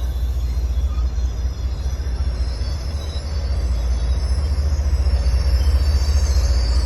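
Train 190 from Philadelphia to Boston rolls into a station, a loud steady rumble of wheels and rail noise with a faint high squeal, sustained and close throughout.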